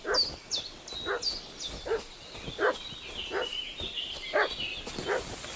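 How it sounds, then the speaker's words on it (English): A dog in the medieval video game Kingdom Come Deliverance 2 barking repeatedly in an agitated fuss, a steady rhythm of about eight yappy barks mixed with whines over a constant ambient background, moderately close. "What's that dog making such a fuss about?"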